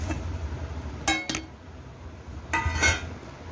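Green chilies and curry leaves are pounded finely: two short bursts of sharp, clattering strikes, each a quick cluster of hits, separated by quiet moments with no talking.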